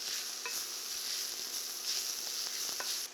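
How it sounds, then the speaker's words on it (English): Shallots and garlic sauteed for a lasagna cook down in a pan with a steady, close sizzle and a few soft stirring scrapes throughout. "I'm gonna add back my sauteed shallots and the garlic mixture, just to bring it all together and cook it down for a few more minutes"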